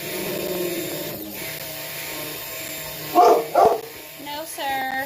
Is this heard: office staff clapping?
no